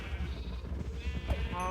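A small cow in Minecraft is struck, giving a short hurt moo that rises over steady game background sound within a couple of seconds.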